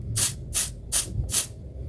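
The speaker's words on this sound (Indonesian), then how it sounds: "sangat membahana sekali semprotannya." Spray sunscreen from a Y.O.U. Sunbrella series bottle, tested on a hand, bursting out in four short, loud, evenly spaced hissing sprays, each lasting a fraction of a second, with brief quiet gaps between them.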